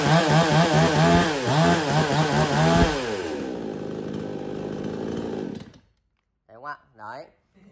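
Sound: 54cc chainsaw engine started and running

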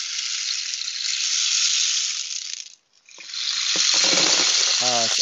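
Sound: rain stick from Guatemala being turned

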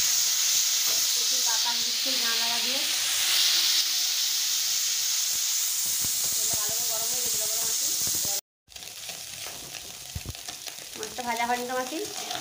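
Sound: piyali fish coated in salt and turmeric frying

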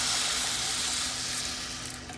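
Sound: hot water added to sizzling pan with orzo pasta

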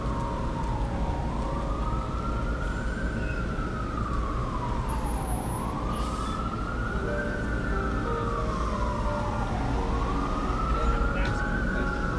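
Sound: ambulance siren in a New York street

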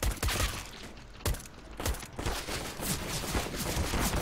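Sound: gunfire in video game Counter-Strike

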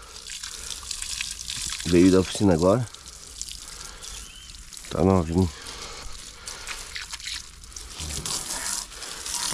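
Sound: water rinsing a motorbike

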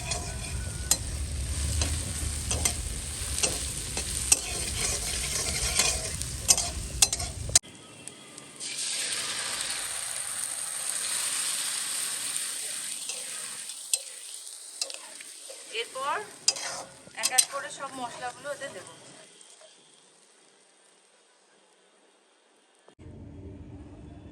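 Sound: onion frying in a pan

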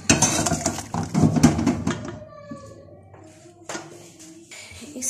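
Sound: transferring beef ingredients into a kadhai (wok)

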